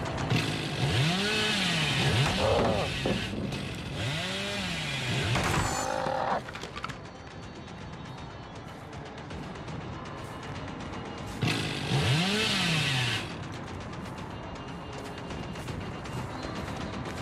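A Dead by Daylight chainsaw revs in loud bursts, first for several seconds at the start and then again briefly later, with rising and falling engine pulses over quieter game ambience in between.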